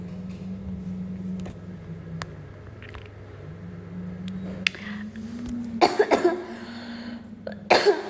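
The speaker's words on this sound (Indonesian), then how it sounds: "Aduh batuk." A woman coughs in short bursts during an indoor live stream, with a couple of sharp harsh coughs near the end over low background hum.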